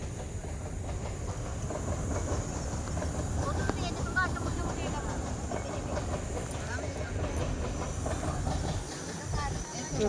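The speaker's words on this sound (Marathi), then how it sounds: "इथं ट्रेन चाललेली आहे बघा" A train passes nearby with a continuous rumbling clatter of wheels and wagons, steady and fairly loud throughout.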